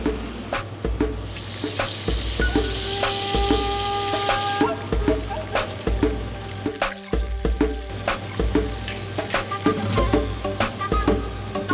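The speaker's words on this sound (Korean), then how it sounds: "달걀에다 토마토하고 이런 걸 넣고 해서 볶은 요리 같은데" Menemen, Turkish eggs and tomatoes, sizzles loudly in a pan at a street food spot, a steady close frying hiss broken by regular scraping and clinking as it is stirred.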